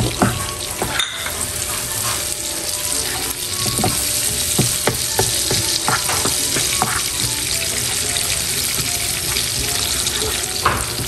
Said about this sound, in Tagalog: Nilagay ko na po yung star margarine. Tapos ilalagay ko na rin po itong bawang, sibuyas at sili.